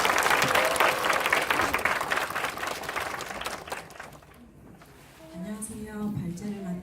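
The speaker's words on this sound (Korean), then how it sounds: "박수 한번 주시면." Audience applause at a forum, dense clapping from a seated crowd that fades over about four seconds, followed by a voice starting to speak at a microphone.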